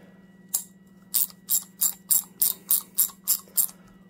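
A BlackHawk-branded New Britain ratchet, freshly repaired and heavily oiled, clicks close by in a quick even run of about nine crisp ticks with a steady low hum beneath.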